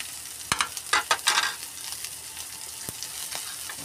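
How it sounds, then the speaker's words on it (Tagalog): Onion and garlic sautéing in a pan, crackling sizzle with a burst of louder spatula scrapes and stirring early on, then a quieter steady fry. "Ayan ang sibuyas at bawang naghahalo na sa dinalupan"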